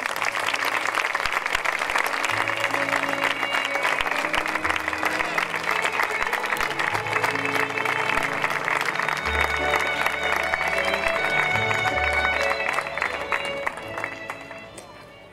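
An audience at a Sant Jordi festival proclamation event applauds loudly and continuously, a dense crowd clapping that holds steady before tapering off at the end, with some faint voices mixed in.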